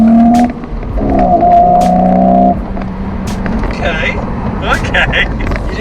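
Car engine revving hard during an acceleration run, rising harmonic tones climbing then dropping at a gear change, close and loud, with people talking over it and road noise continuing afterward.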